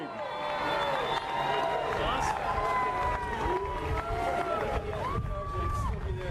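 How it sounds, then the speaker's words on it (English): A large crowd at a stadium ribbon-cutting ceremony in Washington, D.C. cheers and calls out, with overlapping voices and whoops forming a continuous lively roar. "I've never heard the mayor get so much applause."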